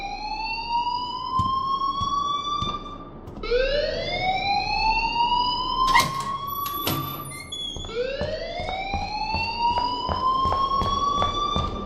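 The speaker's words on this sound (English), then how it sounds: "please turn off that alarm since that's your job" A fire alarm in the video game Life Is Strange rings continuously, its loud rising electronic whoops repeating in sweeping cycles with sharp chirps mixed in, no one speaking over it.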